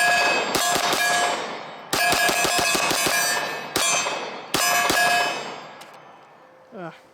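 A SIG Sauer P226 Legion pistol fires hard and fast, starting with a double-action first round. Several quick strings of sharp, loud reports ring with a metallic clang, separated by short pauses.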